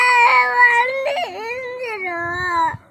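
A young child cries and whimpers loudly and close by, a wavering tearful wail that rises and falls over a few seconds.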